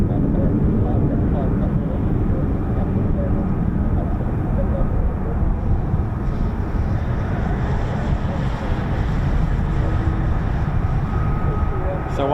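An F-35B stealth jet makes a vertical landing, its steady, loud broadband jet roar with wind buffeting the microphone holding constant throughout, while people speak faintly underneath.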